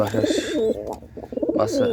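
Pigeons coo nearby in soft, rolling throaty phrases, repeating a few times in quick succession.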